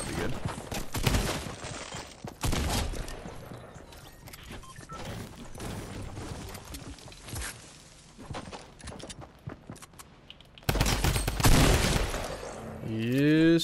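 A Tommy gun fires in the Fortnite video game, loud bursts of automatic gunfire near the start and again near the end, with quieter game noise between them.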